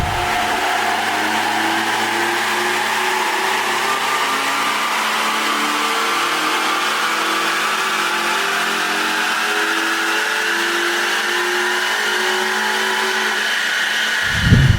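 A BMW 318i E46 engine revs hard and holds against its raised rev limiter, a loud, sustained high-pitched wail with rising harmonics for nearly fifteen seconds and no talk over it.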